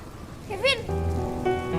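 Steady rain falls throughout, a constant hiss under a brief voice and a sustained tonal sound.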